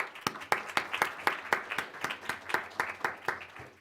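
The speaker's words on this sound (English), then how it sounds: "So I'll just ask you to join me in a round of applause." An audience claps at a talk on integrated development in African lake basins, a short burst of fairly sparse, distinct hand claps in an uneven rhythm, moderately loud, with no talking.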